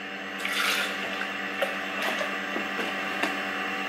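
Water running from a tap into a protein shaker, a steady splashing flow with a few small knocks and clicks over it, close and moderately loud, no speech.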